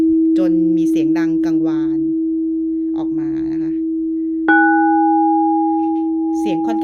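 A bright, pure tone rings steadily from a crystal singing bowl, with someone speaking Thai over it before a second higher tone is struck and sustains.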